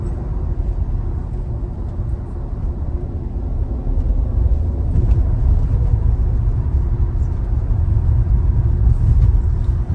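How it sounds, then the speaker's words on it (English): Tesla electric car driving over a rough road, heard from inside as a steady, loud low rumble of tire and road noise with no engine note and no talking. "the rough road makes it sound like we're driving faster even"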